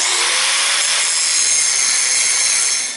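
Steel for a tractor three-point hitch receiver is cut before welding, producing a loud, steady, high-pitched grinding screech that holds for a few seconds alone and then trails off.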